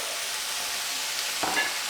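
Balsamic vinegar sizzles loudly in a hot pan with Brussels sprouts, a steady crackling hiss with a brief stirring clatter near the end.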